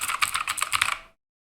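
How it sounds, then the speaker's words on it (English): Fast typing on a mechanical keyboard with clicky Cherry MX blue switches fitted with O-rings: a dense, crisp burst of keystrokes close up that stops abruptly into silence. "These are Cherry MX switches with O-rings."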